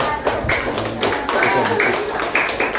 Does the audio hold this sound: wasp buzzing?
no